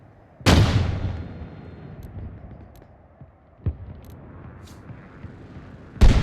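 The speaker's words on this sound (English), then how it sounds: "There are 2 mortars placed, but only one is firing right now." Mortar fire in the Arma military video game: a loud boom with a long rumbling tail, a quieter shot a few seconds later, then another heavy blast at the end, with no talking.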